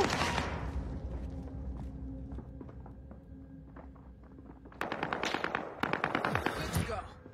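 Video game gunfire: bursts of rapid automatic shots rattle in clusters, loudest near the end, over a constant in-game background, with a voice speaking at times.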